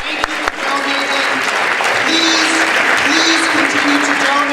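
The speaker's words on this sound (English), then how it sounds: "Let's give ourselves a round of applause." A crowd at an anniversary celebration gives a sustained round of applause, dense and even clapping from many hands with a few sharp claps at the start and voices murmuring underneath.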